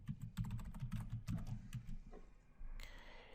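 Rapid keystrokes on a computer keyboard as a password is entered, a dense run of clicks for about two seconds, then quieter, fading taps.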